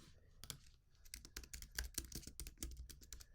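Fingers type quickly on a computer keyboard, giving a dense run of sharp plastic key clicks at an uneven rhythm, close and clear with no talking.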